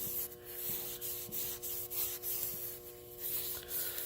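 Brake cleaner hisses from an aerosol can onto the timing gear case of an M35A2 truck with a Cummins 6BT swap, a steady close spray broken into short bursts.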